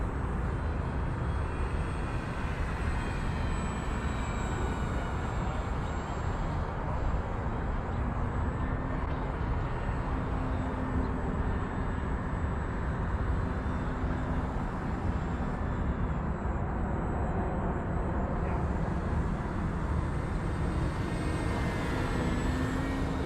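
Continuous buzzing engine drone of a Dynam Waco 50-inch RC model biplane in flight, steady and fairly loud throughout, with slight pitch shifts as it moves.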